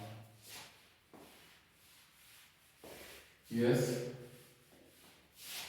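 Writing being rubbed off a board during a maths lesson, soft scrubbing strokes coming in several short passes, one louder, with a brief spoken word.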